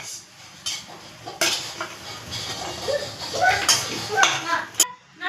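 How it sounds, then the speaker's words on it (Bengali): Lentil fritters (bora) frying in a pan while being lifted out, steady sizzle under clinking utensils and scraping against the pan, with a person speaking. "প্রথম রাউন্ড বড়া হয়ে গেল, আমি ভেজে তুলে নিচ্ছি।"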